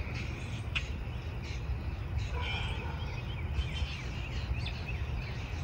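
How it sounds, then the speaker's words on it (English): Several birds call and chirp from trees around a constructed wetland over a low rumbling outdoor background, the calls coming in irregular overlapping bursts. "you can hear there's all sorts of birds in and around the trees making tons of noise"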